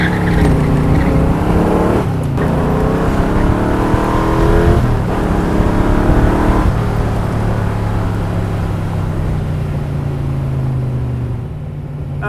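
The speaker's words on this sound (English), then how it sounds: "what it's like to ride in a 427 Cobra. So let's take a little run through the gears" A 1966 Shelby 427 Cobra V8 accelerates hard through the gears, a loud, close engine roar that climbs in pitch, drops at each shift and climbs again, then eases off at the end.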